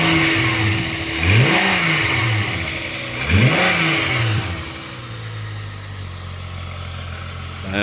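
A Volkswagen Corrado 2.9 VR6 engine revs twice in quick rising-and-falling sweeps, then settles into a steady low idle.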